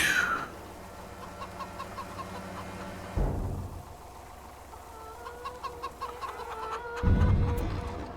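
Chickens cluck in the Farming Simulator video game, a run of short repeated clucks and squawks over a steady low ambient hum, moderately close, with occasional thuds from the game and no talking.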